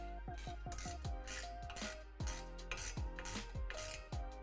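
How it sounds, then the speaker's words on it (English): Metal hardware being tightened on the rim assembly of a Lifetime Quick Adjust basketball system: a run of sharp metallic clicks and clinks, close and fairly steady, with ringing tones between strikes and no talk. "Tighten the bolts, but make sure that the rubber washers aren't bulging."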